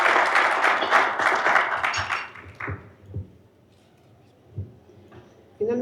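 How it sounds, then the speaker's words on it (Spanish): Seminar audience applause for a speaker on an urban mobility panel: dense, moderately loud clapping for about two and a half seconds, then thinning out into scattered taps and a quiet room. "Un aplauso, por favor, para él"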